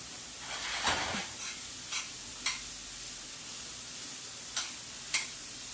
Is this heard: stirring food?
yes